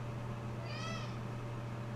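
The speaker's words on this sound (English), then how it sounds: "Oh, my cat's here." A pet cat gives a single short meow at mid-clip, faint against a steady low background hum.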